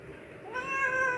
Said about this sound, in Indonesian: Ini padahal peranakan kucing kampung sama Persia ini.